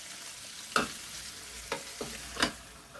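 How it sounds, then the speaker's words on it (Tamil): A few scrapes and clatters of tomato and chicken being stirred in a pan, three or four distinct strokes over a soft background sizzle, close and without speech. "ஒரு கிண்டிக்கிறேன்."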